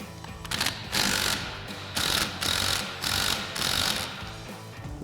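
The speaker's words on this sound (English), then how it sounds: "take our 18mm socket on our impact. Go ahead and try to get this 18mm mounting nut off" An impact wrench with an 18mm socket hammers at an 18mm mounting nut on a Camaro suspension, firing in about five loud, rattling bursts of roughly half a second each, separated by brief pauses, close up with no talking.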